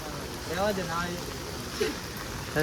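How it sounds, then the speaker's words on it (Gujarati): Steady rain patters on a surface in a constant hiss while people talk nearby. "પાછો વરસાદ આવી ગયો છે"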